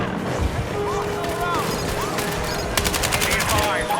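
Rapid automatic gunfire in Battlefield 6 empties a magazine in a fast continuous burst, loud over a busy battlefield background with scattered game voices.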